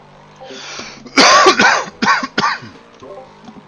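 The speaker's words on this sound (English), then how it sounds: "Sorry for coughing in your ears all night" Several close, harsh coughs in a burst, a couple of sharp hacks followed by a few smaller ones, loud against a quiet background.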